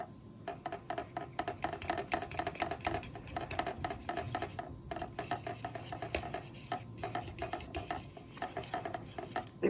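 Fresh yeast and flour being stirred together in a bowl, a continuous close scraping and rubbing of utensil against the dish with quick, irregular strokes.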